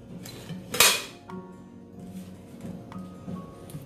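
A metal biscuit plate is set onto a ring inside a pot, giving one sharp bright clank followed by a few lighter metallic taps and clinks against a quiet kitchen background.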